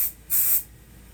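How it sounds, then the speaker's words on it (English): Kenra Dry Texture Spray is applied to hair in a single short, close aerosol hiss lasting about a third of a second, with quiet before and after. "And then this is a spray texture."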